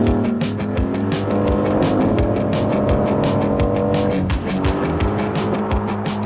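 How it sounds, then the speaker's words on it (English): A new Aston Martin Vantage sports car accelerating hard, its engine note climbing through rising revs, dipping at a gear change and then pulling again, loud and close throughout. "You're one of the first people in the world to drive this beautiful new Aston Martin Vantage."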